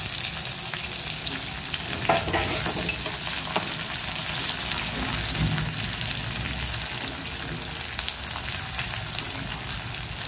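Two large chopped onions hit hot oil after the spice tempering for a Bengali mutton and potato curry, a loud, steady close sizzle with stirring scrapes throughout and no voices.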